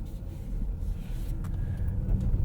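A 2021 Ford Mustang Mach-E Premium AWD rolls through a snowy parking lot, a steady low rumble of tires and cabin noise, close and continuous with no talking.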